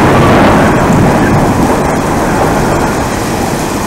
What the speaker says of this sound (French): C'est assez fou comme orage. Ça n'a rien à voir avec les jours précédents, mais rien à voir. Il y a de la bonne pluie.